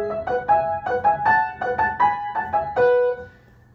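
Piano imitating hunting horn calls in Liszt's La Chasse, a short run of bright repeated chords and notes in a lively rhythm, close and clear, ending with a ringing final chord that fades out.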